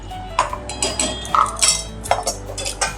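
A spoon stirs a ground spice mixture in a pan, giving quick clinks and scrapes of metal on metal in close, irregular bursts over a low background hum.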